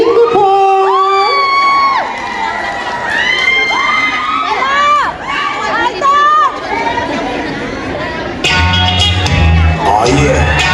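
A crowd at a talent show for overseas Filipino workers in Singapore cheers, whoops and shouts loudly and continuously, with children's shrieks and chatter mixed in. Near the end, deep music begins under the noise.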